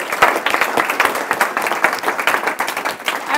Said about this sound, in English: Why don't we do a round of applause?